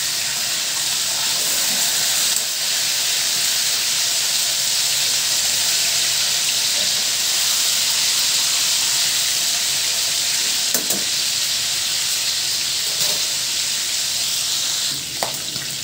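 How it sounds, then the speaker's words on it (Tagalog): Tuna (tambakol) pieces sizzling in hot cooking oil, a steady, bright frying hiss that runs unbroken throughout, with a few faint clicks of utensils and no talking. "Binaan lang natin sa mantika."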